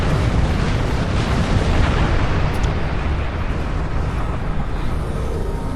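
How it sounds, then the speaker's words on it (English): Dense, continuous rumbling explosions from space combat in the video game Star Trek Online, a loud, unbroken wall of blasts and booms filling the whole stretch with no pauses. "It's just a bunch of explosions."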